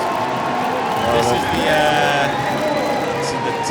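A crowd at a Great Britain versus Russia recurve men's team archery gold final cheers and murmurs steadily in a large space, with whoops rising in the middle, while a commentator talks over it.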